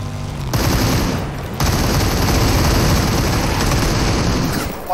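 Rapid automatic gunfire in the battle royale shooter Super People, loud, dense bursts filling nearly the whole stretch with only a short gap early on, no talk.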